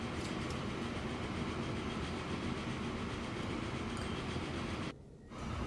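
Train running in the Transport Fever 2 video game, a steady loud rumble of wheels and carriage noise throughout with a light clickety-clack, briefly dropping near the end.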